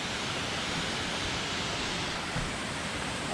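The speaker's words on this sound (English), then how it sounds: "Magnificent waterfall." A waterfall on a coastal hiking route in North Wales roars as a continuous, even wash of broadband noise, with no voices present.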